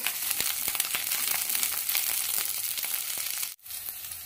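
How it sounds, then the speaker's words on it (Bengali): Cauliflower pieces fry in hot oil over a medium gas flame, a dense, close crackling sizzle that holds steady, then drops out abruptly for a moment before it resumes. "গ্যাসটাকে মিডিয়াম করে রেখে ফুলকপিটা আগে হালকা করে ভেজে নেব।"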